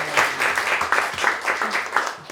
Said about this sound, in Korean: 박수로 다 같이 축하합니다. 두 번 축하 박수다.